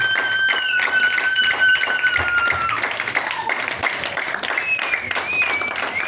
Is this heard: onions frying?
no